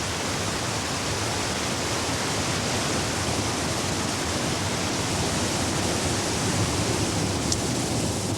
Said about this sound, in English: when the reservoir's very full, then water goes down the overflow to emerge at the bottom of the dam.